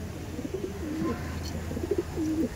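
A Sylheti Kamagar pigeon pair in a loft, giving a few soft, low rolling coos close by over a steady background hum.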